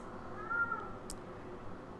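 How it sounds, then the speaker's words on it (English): A cat gives one brief, faint meow over steady background noise from the real-time strategy game Wargame: Red Dragon, with no talk. "Cat is meowing."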